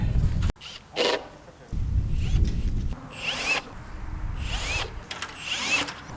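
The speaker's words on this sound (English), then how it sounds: "Pre-drilling all the holes for the rest of the beds here" A power drill whirs in several short bursts, pre-drilling holes in wood for garden beds, with pauses and faint handling noises between runs.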